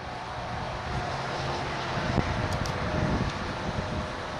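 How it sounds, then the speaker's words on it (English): Steady, roaring wind noise from a strong 20-knot east wind buffets the microphone continuously at close range, with no talking. "we got a pretty strong 20-knot east wind going right now"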